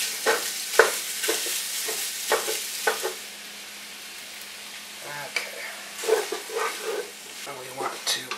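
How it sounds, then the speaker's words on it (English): Sausage frying in an oiled pan while being broken up, a steady sizzle under repeated scraping and tapping of a utensil, loud at first, quieter in the middle, then busy again. "Now I'm going to add the sausage,"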